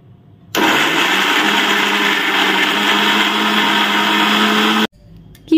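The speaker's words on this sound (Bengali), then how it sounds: "চলো এগুলো বেটে নিই মিক্সিতে।" A mixer grinder whirs loudly and steadily while grinding orange pieces for homemade soap, starting abruptly, running about four seconds at constant pitch, then cutting off sharply.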